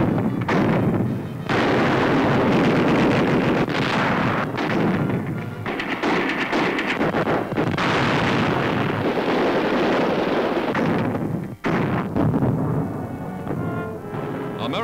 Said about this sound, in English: Light artillery hurling shells across the mountain peaks.